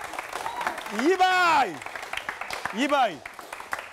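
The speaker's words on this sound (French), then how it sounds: "Ça s'applaudit, s'il vous plaît." A TV studio audience claps after a game-show round, a moderate burst of applause, while a loud voice shouts over it twice.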